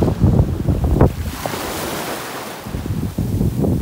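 Sea waves wash onto a Bulgarian beach, a steady roar of surf mixed with gusty wind buffeting the microphone, close and fairly loud throughout with no talking.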